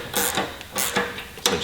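Three short bursts of ratcheting as a hand ratchet snugs 10mm fasteners on a Royal Enfield Himalayan motorcycle, each a quick dry clicking run separated by brief pauses, close and clear.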